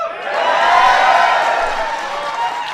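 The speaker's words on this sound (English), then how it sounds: "I knew you guys would clap on that one" A crowd at a White House event honoring the Seattle Seahawks breaks into loud, sustained applause, a dense wash of many hands clapping that swells and then slowly eases, with scattered cheers mixed in.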